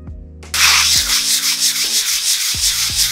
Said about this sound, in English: I am wiping the wall because it's this place is outside, so it might have a bit of dust